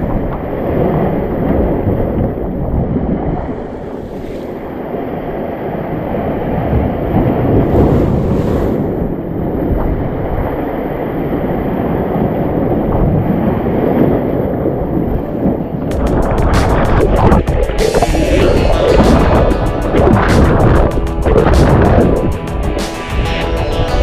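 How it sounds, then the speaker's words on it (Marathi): Rough, churning sea surf at Vengurla beach in Konkan, heavy and continuous, roaring up close with strong wind buffeting the microphone, swelling louder in the final stretch as waves break around a swimmer. "या लाटांनी मला परत थांबा, लाटा जायची वाट बघतो"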